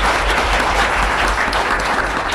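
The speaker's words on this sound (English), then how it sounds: "Let's give a round of applause for David." A lecture audience breaks into applause, a loud, sustained patter of many hands clapping steadily throughout.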